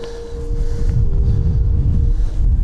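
Strong wind on a mountaintop in the Comeragh Mountains buffets the microphone in low, rumbling gusts, loud and close, with a faint steady tone running beneath.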